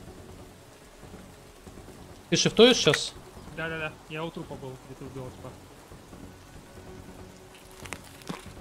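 Steady rain hisses in the background of the video game Escape from Tarkov while two people talk back and forth, with occasional faint rumbles beneath.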